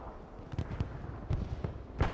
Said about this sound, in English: Explosion happens over there to the east, though.